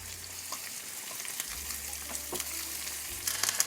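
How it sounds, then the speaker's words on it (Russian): Onions sizzle and crackle in hot olive oil in a pan, a soft, steady frying hiss with small pops, close and fairly quiet. "Отправляю обжариваться лук до легкого золотистого цвета."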